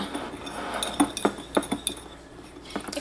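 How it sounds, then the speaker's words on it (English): White sugar and cinnamon powder being mixed in a bowl: a spoon clinks and taps against the bowl in a quick irregular run of bright knocks, moderately close, with faint scraping between. "I'm going to add my cinnamon powder to this. And I'm going to just give this a mix and set it aside."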